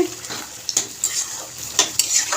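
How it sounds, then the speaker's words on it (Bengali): Ridge gourd and shrimp cook in a pan as a utensil stirs and scrapes, giving several sharp metallic clinks and scrapes over a soft background, close by and moderately loud. "এই দেখো ঝিঙে চিংড়ি হচ্ছে"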